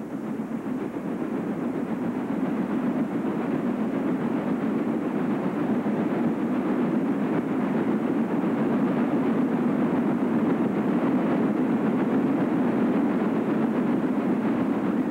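Chesapeake and Ohio J2 steam locomotive hauling a train, a steady loud rumble and roar of rolling stock and working engine holding constant and close throughout, with no talk.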